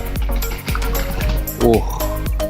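Water splashing and sloshing in a Muscovy duck bathing basin, with repeated dull thumps and a brief burst of louder splashing partway through.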